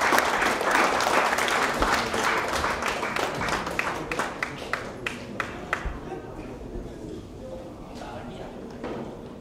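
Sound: audience applause at snooker final

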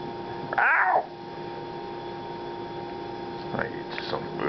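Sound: cat meowing

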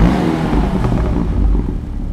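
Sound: Dinka RT 3000 car engine and exhaust starting, video game

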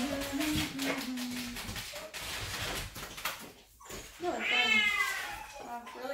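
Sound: cat meowing

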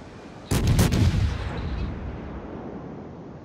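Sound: naval guns firing in a warship video game

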